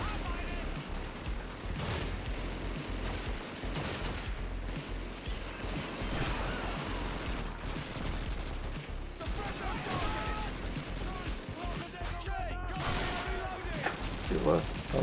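Dense bursts of gunfire in Call of Duty 2, rapid automatic shots and scattered explosions, continuous and busy throughout.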